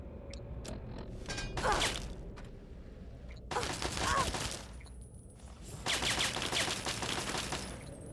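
An automated gun turret firing in Fallout 3: three short rattling bursts of rapid shots a couple of seconds apart at moderate loudness, with someone talking in between.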